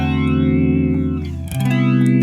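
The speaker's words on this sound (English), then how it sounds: "That's the flanging." Electric guitar played through a flanger pedal set to a fast rate gives sustained notes a sweeping, swirling shimmer, with a chord change partway through and no talk.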